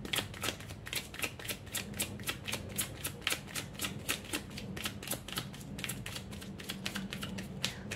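Tarot cards are handled and shuffled at a reading, producing a quick, steady run of soft, close riffling clicks and flicks at low volume throughout.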